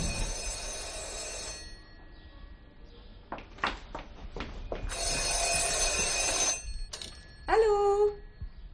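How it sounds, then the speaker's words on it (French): An old telephone bell rings in bursts, a loud shrill trill, then a pause, then more ringing, with a few thumps and a short vocal exclamation between rings, in a 1975 French film scene. "Oh, ce téléphone."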